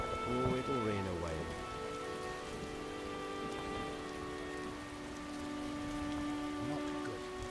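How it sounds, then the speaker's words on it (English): Rain falls in The Witcher enhanced edition game world, a steady hiss of rainfall under sustained musical tones and a short melodic phrase near the start. "Not good. It's raining."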